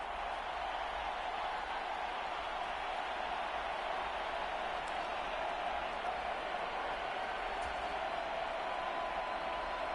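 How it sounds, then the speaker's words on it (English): A steady, continuous roar of a large stadium crowd cheering, broad and unbroken throughout with no distinct voices standing out. "Listen to this crowd now."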